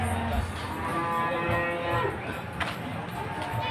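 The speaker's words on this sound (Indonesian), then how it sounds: "Seperti ini kambing-kambing di pasar." Javanese Randu Jrabang goats at a livestock market give loud, close bleating calls over a busy background murmur, several overlapping cries rising and falling in quick succession.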